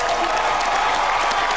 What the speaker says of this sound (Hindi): ये मेरे इन लोग के लिए ताली बजा यार।